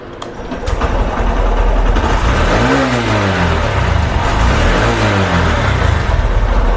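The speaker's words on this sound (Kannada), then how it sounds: "ಈಗ ಸ್ಟಾರ್ಟ್ ಆಗುತ್ತೆ ನೋಡಿ ಗಾಡಿ." A vehicle's engine, just refitted after repair, cranks and catches, then roars loudly and steadily with two distinct rising revs partway through, close up and with no talking.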